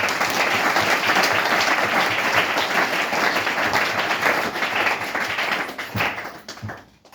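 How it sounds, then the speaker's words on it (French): Church congregation applauding and acclaiming the Lord, loud dense clapping that carries steadily for several seconds before thinning out and fading toward the end. "Est-ce qu'on peut acclamer notre Seigneur?"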